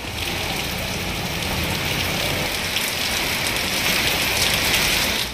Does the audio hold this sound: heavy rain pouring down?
yes